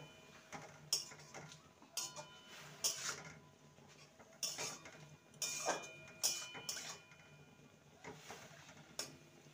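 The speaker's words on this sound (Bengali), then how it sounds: "এবারে ভালো করে নেড়ে নেব।" Arum leaves with turmeric being stirred in a pan, quiet intermittent scrapes and metallic clinks of a utensil against the pan at an irregular pace, fairly close but faint.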